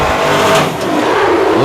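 A truck pulls away and accelerates, its engine rising in a loud, close revving roar that holds steady, with no talk over it.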